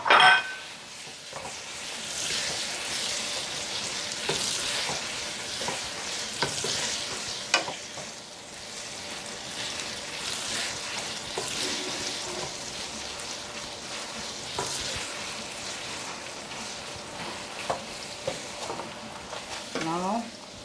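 Saltfish fries and sizzles steadily in a pan for a Jamaican callaloo breakfast, with repeated stirring scrapes and a pot clank, close up under intermittent talking.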